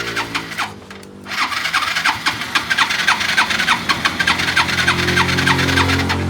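An engine that has sat unused for a year is cranked, and a rapid, rhythmic starter churn with uneven chugging grows louder and denser as it tries to catch, close up with no talking.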